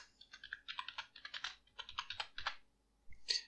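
Close, crisp typing on a computer keyboard, a quick irregular run of key clicks with a short pause and a final louder keystroke.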